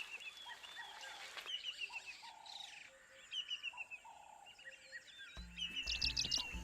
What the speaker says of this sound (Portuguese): um dos melhores sons foi das aves